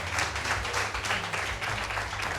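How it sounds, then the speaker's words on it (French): Audience applause for a participant at a live French television magic show, a steady broadband patter of many hands filling the short stretch without a break. "Bissegno, on l'applaudit très très fort"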